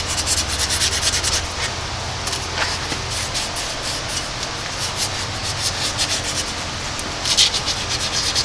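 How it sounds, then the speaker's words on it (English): Steady abrasive rubbing of emery cloth buffing burrs off a metal ball joint part by hand, a continuous scratchy sound close by, with a brief sharper scrape near the end. "This is some emery cloth. And I just go around and I just do a quick buff"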